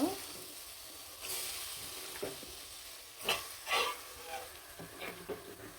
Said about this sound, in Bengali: তেলটা বাদামি কালার হয়ে আসলে কিন্তু মেখে জেখে রাখা মাংসগুলো দিয়ে দিব